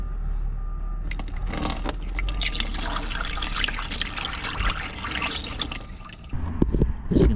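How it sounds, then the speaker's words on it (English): Water trickles and drips steadily out of a drain hole on a Mercedes SL R230, a close, fairly soft liquid flow that thickens midway and then tapers off. "when you pour your water in there, it should flow out the bottom"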